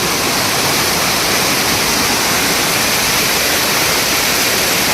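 Loud, steady rush of a fast-flowing stream in the Bhimashankar forest fills the whole clip, a dense continuous roar with no voices.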